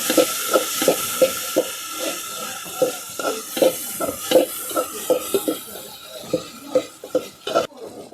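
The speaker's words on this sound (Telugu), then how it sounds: "ఇంకా నూనెలోనే టమాటా ఉల్లిపాయలు ఇంకా ఏగుతున్నాయి" Tomatoes and onions frying in oil for a fish curry, stirred with a spoon that knocks against the pan in a regular rhythm of sharp taps over a soft, continuous sizzling hiss, close up, with no voices.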